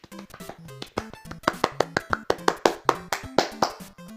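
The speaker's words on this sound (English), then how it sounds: "that was a slow clap for you" Slow, deliberate hand claps, a dozen or more sharp close claps in a steady rhythm, growing a little louder and quicker toward the end, with no voices.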